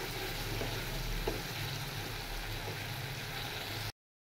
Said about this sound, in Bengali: মশলাটাকে সুন্দরভাবে কষিয়ে নেব।